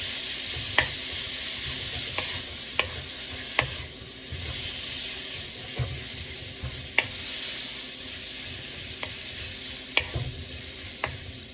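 Steak strips frying in a pan for pepper steak, a steady sizzle with repeated sharp clacks of a utensil against the pan as the meat is stirred and turned, close and unaccompanied by speech.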